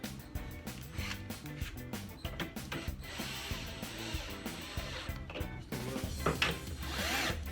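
A ratchet wrench tightens bolts in a garage with quick, continuous clicking bursts of the pawl, close and fairly quiet, pausing briefly before resuming.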